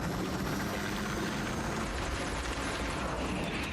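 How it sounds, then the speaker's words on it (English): Helicopter in the movie Mission Impossible, a loud continuous rotor chop and turbine roar filling the scene steadily throughout, close and dominant with no talk. "that type of helicopter always makes me think to the Batcopter, like the Adam West Batcopter."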